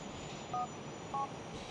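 Two short dial tones from a mobile phone in the video game GTA IV, evenly spaced and faint over a low steady background hum, with no talk.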